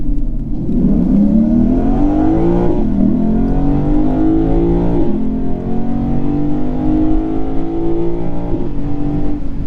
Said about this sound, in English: Try a quick acceleration.